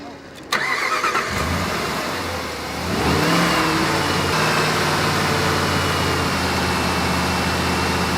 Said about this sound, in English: Now we'll turn everything off and we'll rev it up.